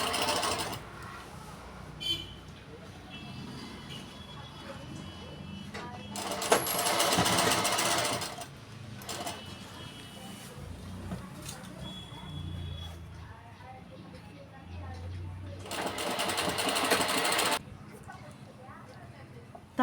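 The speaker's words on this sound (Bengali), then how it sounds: "তাহলে শার্টের কাপড়টি আর কলারের কাপড়টি একসাথে ধরে দুটো কাপড়কে" A sewing machine stitches a shirt collar to the shirt body in several bursts, some loud and fast, others slower and quieter, with a voice speaking throughout.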